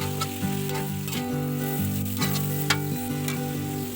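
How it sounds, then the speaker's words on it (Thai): Pork and kale stems stir-fry in lard in a pan, a loud, steady sizzle with occasional stirring clacks over a melodic music backing. "ผัดพอหมูเริ่มสุกก็ใส่คะน้านะคะ ใส่ส่วนก้านก่อนค่ะ"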